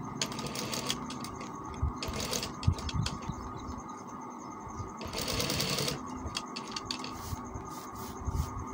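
A sewing machine stitches a kameez seam in quick bursts of rapid clatter, close up, with pauses between runs and light handling noise.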